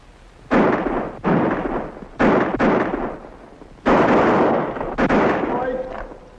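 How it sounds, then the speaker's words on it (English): Gunshots ring out from a barn in an old western TV episode, a run of heavy, booming bursts with long echoing tails, spaced unevenly and fairly loud. "Where is that shooting coming from?"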